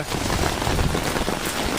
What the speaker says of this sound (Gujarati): એવો વરસાદ આવે તો આમાં જવાય નહીં